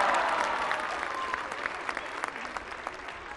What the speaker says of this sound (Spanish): ¡Un aplauso fuerte para el gobernador de Puebla!